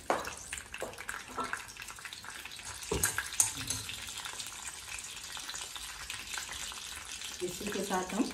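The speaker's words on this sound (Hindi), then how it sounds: "हम इसमें लाल मिर्च डालेंगे, सूखी वाली।" Dried red chillies and mustard seeds frying in hot oil, a soft crackling sizzle with a few sharp pops and a faint clatter, fairly quiet and close.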